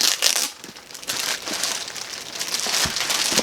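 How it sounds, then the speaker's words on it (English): Tape peels away from a plastic bag around a Chanel phone case, a steady crinkling and crackling that rises and falls in loud bursts, close to the listener and without any talk. "sorry for the tape coming off of this plastic bag"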